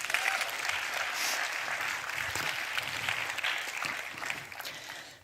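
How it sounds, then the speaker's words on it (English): Sustained applause from the audience at a motivational keynote talk, a steady wash of many hands clapping for several seconds at moderate level that fades at the very end. "please give a big round of applause to Leila"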